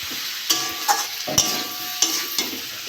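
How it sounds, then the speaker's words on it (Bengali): Chopped tomatoes with chilli, coriander and cumin powder being sautéed in a pan, with a steady sizzle broken by several distinct spatula scrapes and knocks at an uneven pace. "দুটো টমেটো কেটে রেখেছি ছোট দিয়ে দেবো ভালো করে কষে নেবো"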